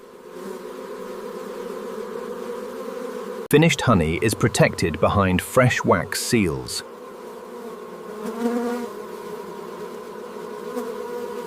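Honey bees buzz inside their nest, a dense continuous hum that swells into a louder, busier burst of close wingbeats midway before settling back, while a narrator speaks over it.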